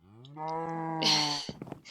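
A cow moos in the Minecraft video game, one long, clear, low drawn-out call that rises into a brighter tone before fading, followed by a few soft clicks.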